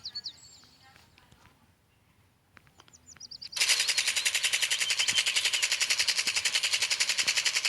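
Rapid automatic gunfire erupts in a zombie apocalypse video game, a fast, even stream of loud shots that starts abruptly after a few quieter seconds of chirps and scattered game sounds, then runs steadily to the end.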